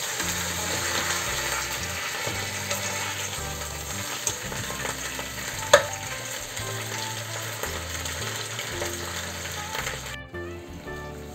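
Chicken pieces fry in a pan, with a steady, close, continuous sizzle and crackle that holds level for about ten seconds before cutting off abruptly.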